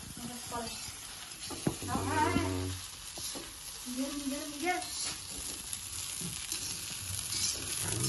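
Fried egg balls sizzling in hot oil in a home kitchen, a steady crackling hiss with stirring clatter, while children and adults chat nearby.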